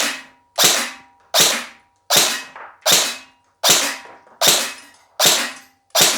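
Nine sharp, evenly spaced shots from a Specna Arms RRA SA-C10 Core airsoft rifle at an indoor range, each a loud close crack with a short decay, fired in a steady semi-auto rhythm with no talk.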